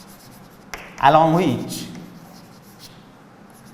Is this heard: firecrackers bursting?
no